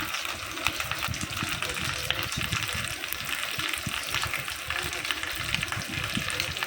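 Papaya sizzling in a hot pan while spices are stirred through, a dense continuous frying hiss with rough scraping strokes of the spoon underneath, a voice talking over it.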